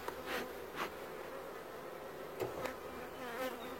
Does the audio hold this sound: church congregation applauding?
no